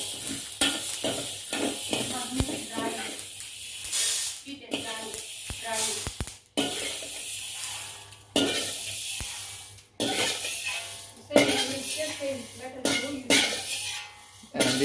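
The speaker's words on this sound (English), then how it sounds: "Now we are roasting the dried fenugreek to remove the moisture" Dried fenugreek seeds roast in a pan, a dry crackling sizzle broken by repeated scraping stirs, close and fairly loud, with someone speaking over much of it.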